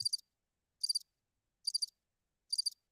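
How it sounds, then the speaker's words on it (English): Crickets chirping in a clean, even rhythm: four short trilled bursts spaced under a second apart, bright and high, with dead silence between them and nothing else around. "You hear those crickets?"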